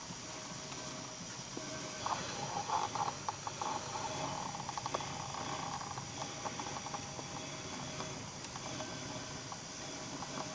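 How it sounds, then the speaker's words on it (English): A treadle-operated Forsyth Jennie plyer winds yarn onto mini bobbins, making a steady mechanical whir with an even, rhythmic clatter of treadling held under a constant background hum. "Consistent treadling means speed, so you want to try and keep it as even as possible when you're loading onto these little bobbins"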